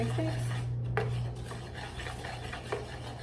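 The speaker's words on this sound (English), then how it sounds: "let's mix the dried ingredients, mix" A utensil stirs and scrapes dry ingredients for flour tortillas, including flour and salt, in a bowl, making soft, steady rubbing and occasional light clinks, fairly quiet and close.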